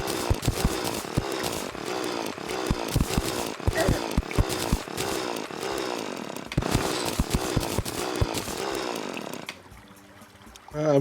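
A drill tool in the video game Terraria grinds in rapid, repeated bursts, a harsh buzzing chatter like a chainsaw, loud and close, then it drops away near the end.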